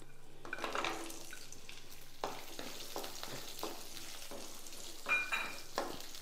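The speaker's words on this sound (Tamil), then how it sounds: "வெங்காயம் கொஞ்சம் வதங்கட்டும்." Small onions fry in a pan with spices such as cinnamon, making a soft, low sizzle with scattered clicks and scrapes from a spatula now and then.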